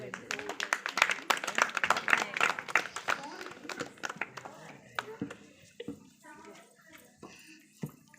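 Hand clapping from guests gathered for a child's birthday cake-cutting, sharp irregular claps strongest early then thinning out, mixed with nearby voices and chatter.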